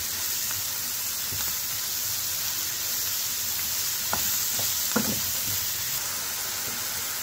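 Leeks and mushrooms sautéing in a pan, a loud steady sizzle with a few brief clinks and stirring scrapes midway.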